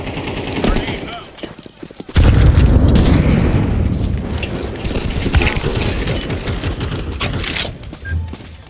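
A grenade explodes in a video game: a sudden loud boom bursts out, followed by dense rattling gunfire, with voices talking over the action.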